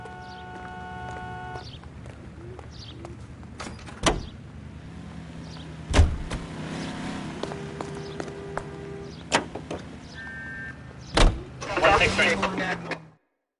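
In the video game L.A. Noire, a car's engine hums low and steady while doors thunk shut, a window motor whirs and sharp clunks punctuate the drive, with characters talking over it.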